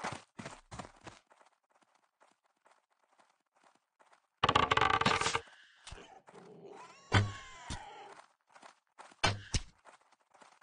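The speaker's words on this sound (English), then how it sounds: "Cat needs attention." A house cat meows for attention in short, sharp calls at the start, followed by a louder drawn-out wail and a few more cries and bumps in an otherwise quiet room.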